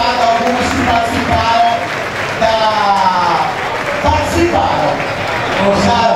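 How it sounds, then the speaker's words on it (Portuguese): Audience at Blue Space nightclub's 22nd anniversary party applauding drag performers, a dense, steady wash of clapping and crowd noise with a voice talking over it throughout. "Eu queria que vocês aplaudissem essas drags maravilhosas que estão presentes por aqui"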